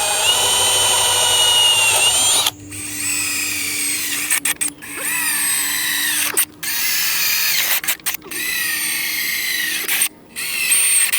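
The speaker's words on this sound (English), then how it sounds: "we're going to drill these out at our respective locations for our studs." A power drill bores holes into wall studs while mounting a gun wall display panel, loud continuous whining bursts broken by short pauses as the bit is stopped and restarted.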